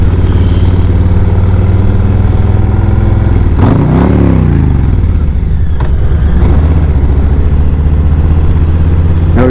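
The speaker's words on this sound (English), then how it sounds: "Always got to rev your engines for little kids." A Harley-Davidson 2022 Low Rider S motorcycle engine idles loudly up close, then is revved sharply around the middle, the pitch climbing and falling back to a steady rumbling idle.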